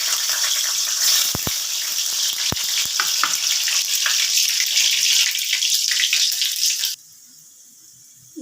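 Garlic hits hot oil and fries with a loud, close crackling sizzle, broken by a few sharp pops and clatters, until the sound cuts off abruptly near the end.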